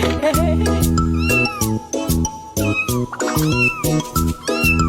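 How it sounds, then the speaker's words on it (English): A domestic cat meows repeatedly, loud and close, each call rising and falling in a drawn-out, whining cry with brief pauses between. "There was a family had a cat, and Lucky was her name"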